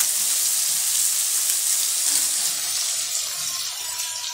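Chili powder and cumin powder sizzle steadily in a hot pan while cooking kochur dom, a bright continuous frying hiss that holds even and close throughout with no voices.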